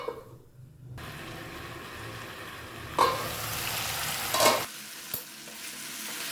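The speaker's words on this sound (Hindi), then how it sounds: "सबसे पहले चिकन को हम 2 मिनट तक हाई फ्लेम पर भूनेंगे" Marinated chicken dropped into a hot pan and fried on high flame, a loud, steady sizzle that swells with two bursts of stirring and clattering before dying down, close up with no talking.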